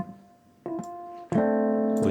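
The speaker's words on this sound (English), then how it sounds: "we can dampen it so you get this kind of lush reverb that doesn't really get in the way." Software electric piano chords struck one after another, each ringing out into a soft, damped, lingering reverb tail that keeps sustaining after the notes.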